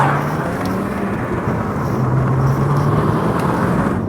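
A VW Golf VR6 4MOTION engine drones steadily while driving, a low continuous hum with road and cabin noise, close and even throughout with no talking.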